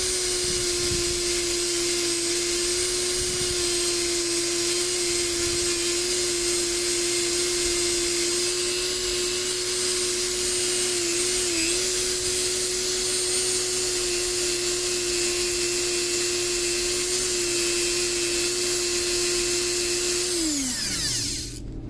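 A power tool polishes Glock internals, a loud steady high-pitched whine with a constant tone that holds for about twenty seconds before spinning down at the end, no talking.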